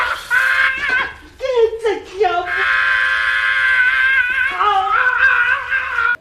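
A man in a film scene screams in agony while being tortured, with long, loud, wavering cries and shorter ragged yells that run almost without pause.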